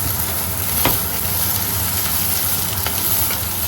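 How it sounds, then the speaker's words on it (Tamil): Green beans with curry leaves frying in a pan, a loud, dense, unbroken sizzle with a couple of brief scraping knocks from stirring. "வடிவாக திரும்பவும் நாங்கள் வதக்குவோம்"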